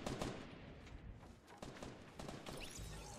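Video game gunfire during an online duo match: bursts of sharp, rapid shots and thuds, moderately distant and fairly quiet, scattered irregularly across a few seconds.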